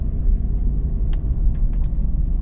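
Ford Super Duty gasoline pickup engine pulling a heavy trailer in tow haul mode, a steady loud low rumble of the engine under load with continuous road noise and no talking.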